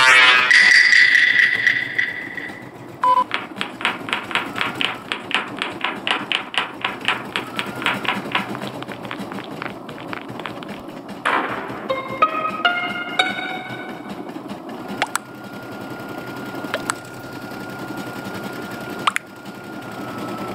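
Embroidery machine stitching a patch with pink thread, a rapid steady rattling needle rhythm running close and loud, followed by a few motor whirs and beeps as it changes pace, with no voices.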